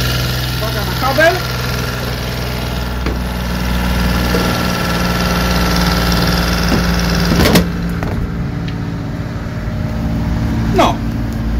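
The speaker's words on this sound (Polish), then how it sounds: "Natomiast ten kogenerator sobie po prostu powolutku pracuje." A cogenerator engine hums steadily and loudly nearby in an off-grid power setup, a low continuous drone with occasional knocks and rattles on top.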